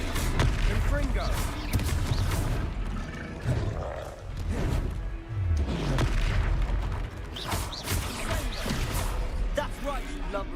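Confringo fire spell blasts in Hogwarts Legacy, loud booming bursts and crackling impacts over dense game combat noise and music, with a voice speaking at times.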